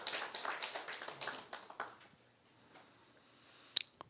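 Church congregation clapping during a Sunday worship service, a scattered burst of claps over the first two seconds that thins out, followed by near quiet and one sharp isolated clap near the end.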